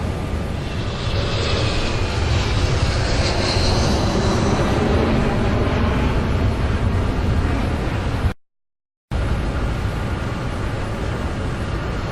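Steady, loud roar of Boeing 747 jet engines during the takeoff roll, a dense continuous rumble with high whine, cut by a brief silent dropout near the end.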